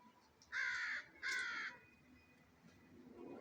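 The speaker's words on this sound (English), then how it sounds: "I have no idea what kind of bird this is." Two loud, harsh caws from a crow-like bird in a yard, each about half a second long with a short gap between them, followed by quiet outdoor background.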